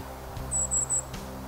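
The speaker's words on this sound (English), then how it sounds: "Oh, golden crowned kinglets." Golden-crowned kinglets call from forest trees in a state park, three thin, very high-pitched notes in quick succession, faint and distant over a quiet low background hum.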